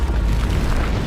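A Bombarda spell blast in Hogwarts Legacy, a single loud, deep booming explosion with heavy low rumble that fills the whole short moment.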